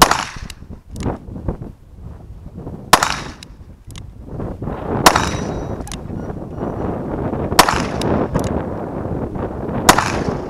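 Pistol shots strike a Do-All Outdoors auto reset steel handgun target rated for .38, with about seven sharp, close cracks and metallic clangs at irregular intervals.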